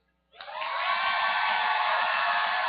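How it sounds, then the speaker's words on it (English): A live event audience bursts into loud, sustained applause and cheering with whoops, starting abruptly after a brief silence and holding steady throughout. "Hey, audience, which side should we start on by applause?"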